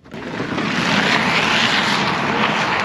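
A 2023 Chevrolet Bolt EUV electric car accelerating hard in sport mode, giving a loud, steady rushing whine and broad roar that swells quickly and holds, close up with no talking.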